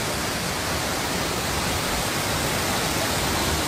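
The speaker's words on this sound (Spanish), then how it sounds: "me relaja bastante la agüita" Running water, likely a fountain or waterfall outdoors in Las Vegas, fills the air with a steady broadband rush, even and continuous with no breaks and no talking.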